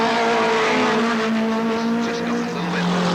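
Race cars from 1983 at Alwalton Raceway roar past close by, engines droning loud and steady with a slight pitch shift as they run evenly matched.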